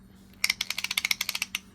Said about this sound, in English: There's the anti-reverse clicking.